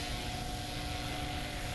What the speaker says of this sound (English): That's a beautiful plane, getting the tail nice and high, pulls the flaps and just floats off the ground